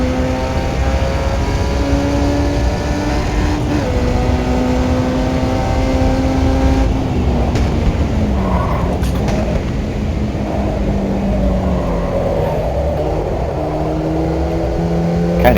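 F1 junior race car engine in a racing video game, a loud, continuous high-pitched whine that climbs and drops through gear changes and braking, filling the whole stretch without speech.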